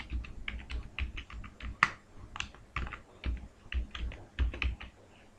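Quick irregular keystrokes clatter on a computer keyboard while filling in a Google Forms page, bursts of taps and a few heavier key presses with brief pauses between, close and clear with no voices.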